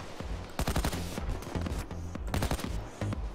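Rapid automatic gunfire from the heist shooter Payday 2, dense bursts of shots in quick succession with a few short gaps, loud and close, with no talking over it.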